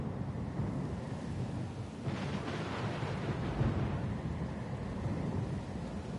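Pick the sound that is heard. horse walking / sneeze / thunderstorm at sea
thunderstorm at sea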